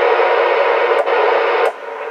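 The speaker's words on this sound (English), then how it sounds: "And I hear it on other channels, adjacent channels, just with the carrier." A Stryker SR447HPC2 CB radio puts out carrier noise splatter on a channel, a steady hissing static rush that breaks briefly twice and drops in level near the end, with no voices.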